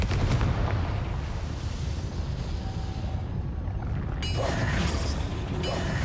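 A Confringo spell blast in the video game Hogwarts Legacy, a deep rumbling explosive roar that rolls on for several seconds before a brighter crackling burst, loud and close, with no talk.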